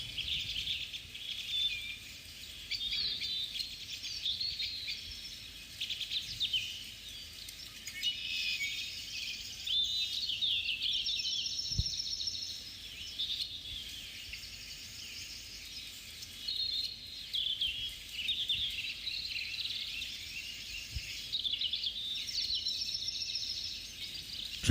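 Outdoors, birds chirp and sing continuously in high, bright trills, with insects or crickets buzzing faintly in the background. The calls carry at a moderate distance and no one speaks.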